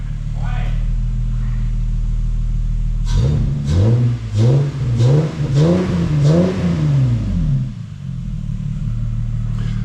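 A Lexus GS300 engine idles, then revs in a series of about six rhythmic throttle blips with deep exhaust growl before settling back to a steady idle.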